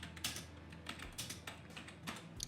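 Steady rapid typing on a computer keyboard at close range, a run of quick key clicks with no talking.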